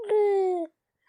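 A single short, high-pitched infant vocalization, a sustained coo lasting under a second, close and clear, followed by silence.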